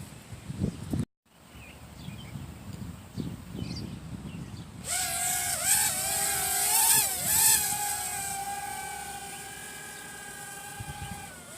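A $30 budget drone lifts off for its first test flight over a wide open field, its high buzzing rotor whine starting partway through and shifting in pitch as it climbs and manoeuvres, with no talking.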